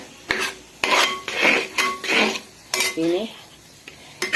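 Metal spoon stirring food in a pan as masala with chili powder and salt cooks down before chicken goes in, giving repeated scraping and clinking strokes in short bursts, close and fairly loud, with no talk.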